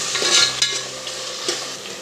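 Onions and green chillies frying in a pan for Telangana mutton curry, soft sizzling with a few stirring scrapes, close and fairly quiet.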